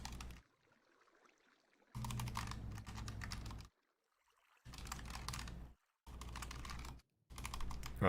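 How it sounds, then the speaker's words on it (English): Rapid computer keyboard typing during a Minecraft session, arriving in several dense bursts of clacking keys separated by near-silent gaps, close and fairly quiet. "Oh, typing's hard."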